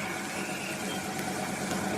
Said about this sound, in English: Riding home like this on top of a bus?